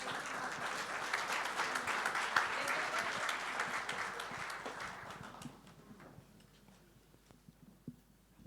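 A conference audience at an international district energy event claps in a dense burst of applause that fades out over the final seconds, leaving a few scattered claps and quiet room noise.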